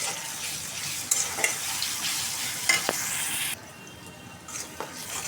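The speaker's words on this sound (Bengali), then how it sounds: "তারপর চিংড়ি মাছগুলো দিয়ে দিতেছি। ভালোভাবে একটু ভাজে নিব।" Prawns fry in a pan with a bright, steady sizzle, marked by a few sharp clinks and scrapes of stirring before the hiss suddenly drops to a quieter crackle.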